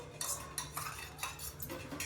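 Metal utensils and dishes are picked up and handled, a run of close clinks and clatters in an irregular rhythm over a low steady background hum, with no voices.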